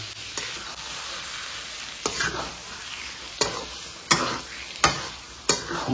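Green peas frying in a pan with a steady sizzle, punctuated every second or so by sharp scraping strokes of a spoon stirring.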